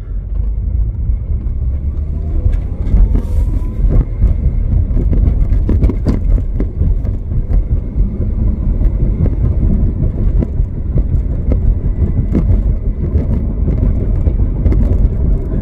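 An abandoned car with no working power steering pump or serpentine belt drives along with a loud, steady low engine and road rumble, joined by faint rattles and creaks throughout.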